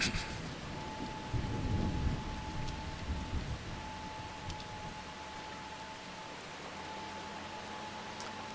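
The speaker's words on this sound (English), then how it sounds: "it did start raining, which is not ideal for" Steady rain falls across a Farming Simulator 25 farm in the Pichonniere Valley, a soft continuous hiss with a faint tonal hum running underneath and no voices.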